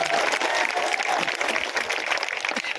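An outdoor crowd at a village gathering in Varanasi applauds steadily, with dense, moderately loud clapping throughout and no pause.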